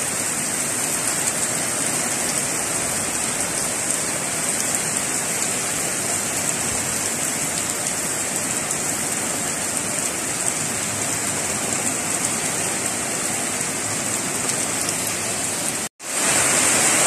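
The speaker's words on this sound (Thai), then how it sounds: "ฝนตกค่ะอันนี้ที่ฝนตกค่ะ" Heavy rain pours at a home in Thailand, a loud, unbroken rushing hiss like a downpour on surfaces, cut by a brief dropout near the end before resuming.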